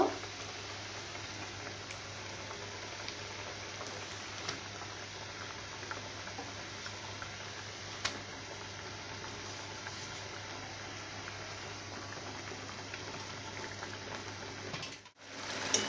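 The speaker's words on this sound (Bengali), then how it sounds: "ভালোভাবে এখানে ফুটে গেছে।" Curry with stuffed bottle gourd leaves boiling in a covered pan, a steady soft bubbling patter with faint ticks, quiet and even throughout, with no talking.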